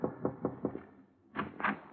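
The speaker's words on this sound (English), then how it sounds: "he was tapping gently at my door" Gentle knocking at a door, heard as a quick run of four or five soft, evenly spaced taps, a short pause, then two more close taps, all alone in a quiet room.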